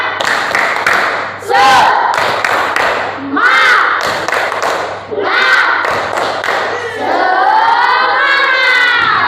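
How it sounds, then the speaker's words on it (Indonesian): A school class claps and chants together in rhythm, loud bursts of unison voices over clustered hand claps and thuds, repeated several times. "tepuk semangat dulu sekali lagi."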